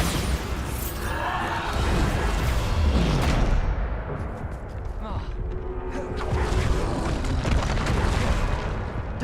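Heavy magical blasts from the Bombarda spell in Hogwarts Legacy, several booming bursts with whooshing tails that rise and fall over dense combat noise, with talking in the background.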